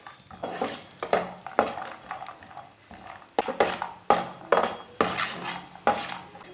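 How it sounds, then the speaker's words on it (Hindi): Cashews roasting in a teaspoon of oil in a pan while being stirred, a spoon scraping and clinking against the metal in repeated strokes, close and fairly quiet, with no voices. "काजू को 2-3 मिनट के लिए भून लेंगे।"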